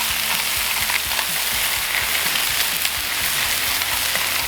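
Smash burger patties sear on a flat griddle, giving a dense, continuous sizzle and crackle throughout, close and fairly loud with no voices over it.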